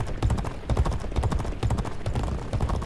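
Racehorse hooves gallop in G1 Jockey 4, a steady fast clip-clop rhythm of repeated hoofbeats, close and fairly loud throughout without talk.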